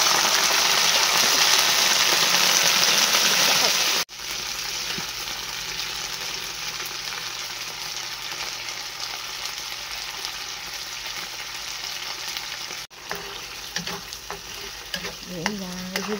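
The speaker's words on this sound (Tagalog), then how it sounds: "Igigisa lang sardinas." Sardines sizzle and fry steadily in a pan for pansit bihon, with a loud, dense hiss that drops in level partway through, and occasional stirring scrapes toward the end.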